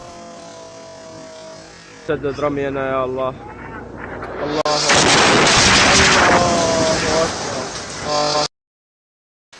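A sudden loud blast at about two seconds as an American bomb hits an ISIS artillery gun, then a roaring, sustained rumble of explosion noise lasting several seconds before cutting off abruptly; voices and harmonic tones occur underneath.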